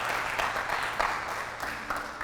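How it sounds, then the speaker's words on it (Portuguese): Church congregation applauding with a steady wash of clapping that swells and dips across a couple of seconds, filling the room at moderate loudness with no clear voices on top. "Dá um aplauso a ele."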